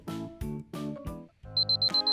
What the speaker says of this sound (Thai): เกลียดนาฬิกาปลุกพวกนี้จังเลย